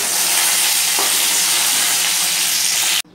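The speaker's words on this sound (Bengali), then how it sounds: "আগে মাংসগুলো একটুখানি ভেজে নিই।" Chicken pieces fry in a small amount of hot oil, giving a loud, dense, unbroken sizzle up close that stops abruptly at the end, with no talking.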